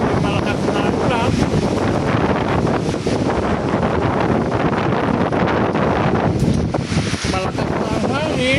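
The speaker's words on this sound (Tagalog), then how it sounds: "Malakas na ang hangin." Strong typhoon wind and heavy rain buffet the microphone in a constant loud roar, a dense unbroken rush with gusty swells and no clear pauses, no talk audible over it.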